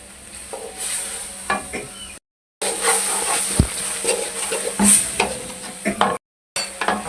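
Green chillies hit a hot pan for an aloo baingan bhujia, giving a steady sizzle with scraping stirs and occasional utensil knocks, close up and with no talking.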